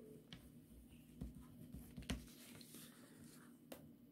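A teacher writing a sentence by hand in a French classroom: a few faint, scattered scratchy strokes and taps over a low hum, close and quiet, with no voices.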